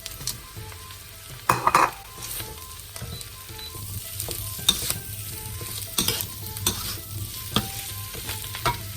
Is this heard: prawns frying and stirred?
yes